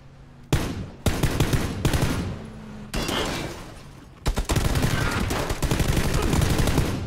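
Gunfire erupts in a squad-mode shooter match: loud, close bursts of rapid automatic fire and sharp single shots, broken into several clusters with short pauses between them.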